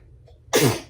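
A single sharp human sneeze indoors at home, sudden and loud after a brief quiet intake, standing alone with no talk over it.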